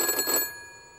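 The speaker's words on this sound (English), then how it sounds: "The red emergency phone punctures the silence" A red emergency telephone gives a short, loud burst of electronic ringing that stops abruptly, leaving a faint fading ring tone.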